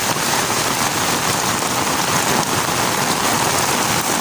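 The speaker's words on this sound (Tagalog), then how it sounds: "Puro ulan ang dala." Heavy rain pours steadily in Can-avid, Eastern Samar, Philippines, in a dense, continuous hiss with no pauses, loud and close, with no voices or other sounds.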